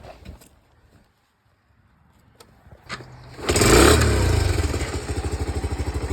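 A small motorcycle kicks over with a few clanks, then its engine catches and revs loudly and close, settling into a rough, pulsing idle.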